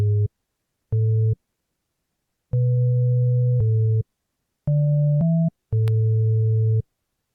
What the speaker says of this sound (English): I added this 3x OSC for the bass